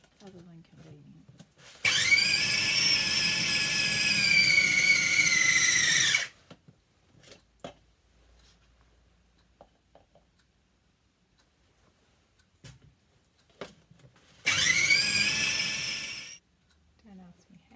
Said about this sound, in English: I actually fitted it all in my little food processor